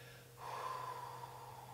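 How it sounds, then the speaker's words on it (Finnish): A long, deep exhale blown out through the lips during a gentle yoga breathing exercise, a single steady airy breath heard close and fairly soft over a faint hum. "se tulee kurkun kautta huulten välistä ulos, semmoinen syvä ulospuhallus"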